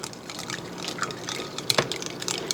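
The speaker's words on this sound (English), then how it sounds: "I'm going to use my whisk" Raw eggs whisked in a bowl, a quick wet clicking and sloshing patter that runs continuously at close range, fairly soft, with no talk.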